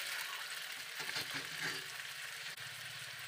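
Chopped green chillies, cut potato and peas fry in a pan of onions for poha pulao, giving a steady close sizzle with a few brief stirring scrapes and no voices.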